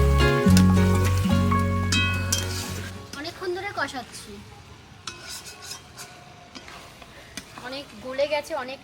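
Goat mutton stirred and sautéed in a pan, with a spatula scraping and clinking against the metal. The sizzle is loud at first, then gives way to repeated stirring strokes and light clinks.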